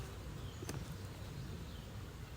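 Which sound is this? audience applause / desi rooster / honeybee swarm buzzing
honeybee swarm buzzing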